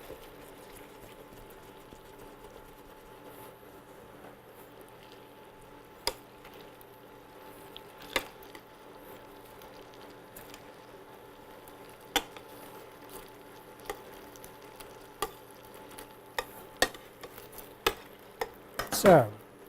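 Ravioli frying in butter in a pan, a soft, steady low sizzle with scattered clicks and light scrapes of a utensil being moved, close and quiet, ending in a brief louder stir.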